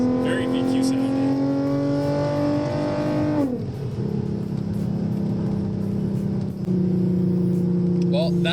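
Modified Lexus IS350 V6 engine revving loud and close from inside the cabin, climbing steadily then dropping sharply on a downshift before settling into a steady drone.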